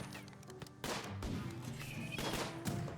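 Mortar volley fires in the video game Rimworld, a burst of booming detonations and crashing impacts in quick succession over a dense, rumbling battle din.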